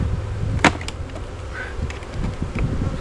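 A swarm of honey bees being cleared from a hive box in August, with a dense, steady buzzing that fills the air close by. A sharp knock or bang lands near the start, and a few louder bees pass nearby.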